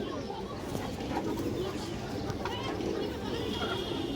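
Soft cooing of pigeons, two pairs of males and females, steady and close, mixed with other bird calls beneath a speaking voice.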